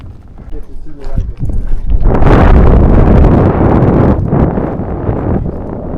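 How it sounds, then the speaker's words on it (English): Strong wind gusts buffeting the microphone on a mountain, a roaring rush that swells and stays loud, with a voice faintly present early on. "Beautiful up here. And cool and windy."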